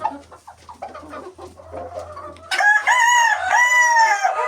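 Chickens cluck softly and busily while being fed a feed mix, then a loud rooster crow rings out close by and carries through the rest, over a faint low background hum.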